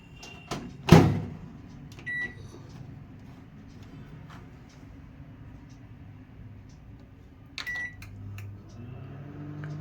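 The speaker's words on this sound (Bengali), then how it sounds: "এবার বড় যেটা বাড়ির জন্য করছি সেটাও এবারে মাইক্রোওভেনে ঢুকিয়ে দিচ্ছি" A microwave oven hums steadily while baking an eggless cake, a low continuous drone with a sharp clunk near the start and a faint click later, no voices.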